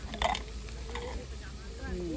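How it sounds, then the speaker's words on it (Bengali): Sliced onions fry into birista with a brief, moderate sizzle and a few stirring scrapes, near and short, while faint voices murmur in the background. "তোকে বেরেস্তা ভাজা হচ্ছে"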